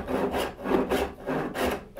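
Hand saw cutting a kerf for a wooden dovetail half lap joint, a steady back-and-forth rasp with about four close, even strokes, alone and near.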